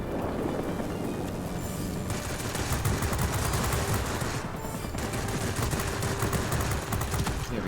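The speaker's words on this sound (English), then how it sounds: "I do want my 20mm cannons to start hitting again" Rapid 20mm cannon fire from a Spitfire V fighter in World of Warplanes, a dense continuous rattle of bursts mixed with engine roar, loud and steady throughout with no talk.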